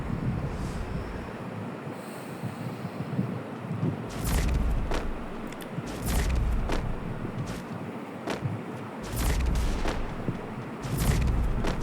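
Gunfire in a shooting video game: several sharp shots spread irregularly across the stretch, each a short crack over a constant windy, surf-like background hiss, without speech.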